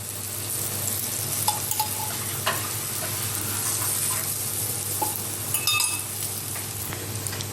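Millet tikki shallow frying in oil in a pan gives a steady, close sizzle throughout, with a few light clinks of a utensil against the pan.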